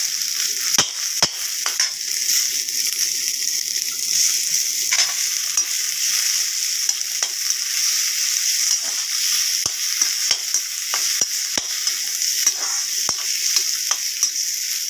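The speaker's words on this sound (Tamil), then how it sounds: "வெங்காயம் வதங்கிட்டு இருக்குது" Onions sauté in a pan for coriander seed chutney: a bright, even hiss of frying runs throughout, punctuated by irregular crisp taps and scrapes of a spatula, close-up and with no voices.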